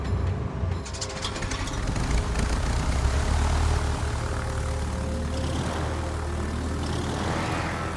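Propeller airplane engine droning in a naval warfare video game, a steady loud rumbling hum that holds evenly throughout with no talk.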